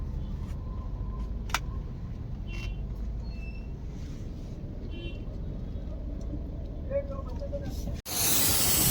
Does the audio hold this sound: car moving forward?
yes